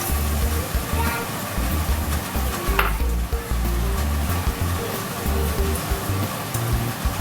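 Chopped garlic sizzles in hot canola oil in a pan, a steady crackling fry with occasional stirring clinks, while a person talks over it.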